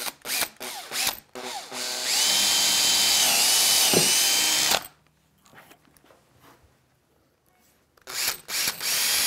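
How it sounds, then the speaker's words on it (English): A power drill bores through a hinge panel post on an enclosure build, whirring loudly and steadily for about three seconds before cutting off, with short tool clatters before and after. "I'm going to drill this hole through the hinge panel post."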